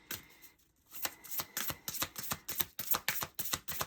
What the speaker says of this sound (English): We're going to pull some cards.